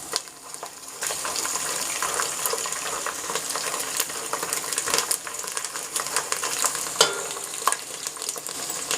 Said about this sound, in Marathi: यामध्ये आता लसूण टाकून घेते. लसूण करपू नये म्हणून नंतर टाकलाय लसूण.